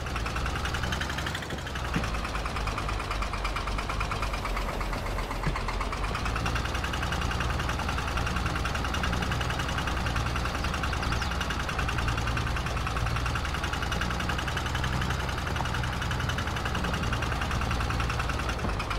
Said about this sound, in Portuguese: O trator aqui, o acelera é muito bonzinho para trabalhar nas parreiras, tá?